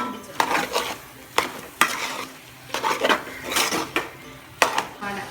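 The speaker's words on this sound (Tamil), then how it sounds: "இனி நான் கரண்டி வச்சு கிண்டுவேன்." Aviyal, a Nagercoil vegetable dish, is stirred with a ladle in a pot, giving rhythmic close scraping and clanking strokes over a faint sizzle, each stroke starting with a sharp knock.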